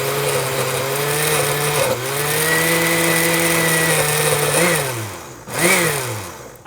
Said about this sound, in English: Start blending up. There it goes.